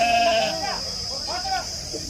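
Sheep bleat a few times at close range at a sheep market, wavering cries over a steady high hiss, with a voice briefly audible.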